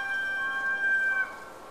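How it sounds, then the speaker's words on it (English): A rooster crows outdoors, a single drawn-out call heard at a distance, faint against a quiet background with no talking. "my rooster's sounding forth out there"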